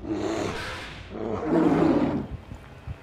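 A brown bear lets out a deep, rough roar in two surging bursts, the second louder and longer, trailing off into grunts and rustles.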